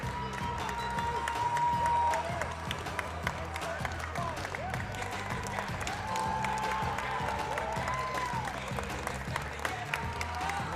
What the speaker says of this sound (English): a lot of the Ohio State fans are giving an appreciative round of applause for their team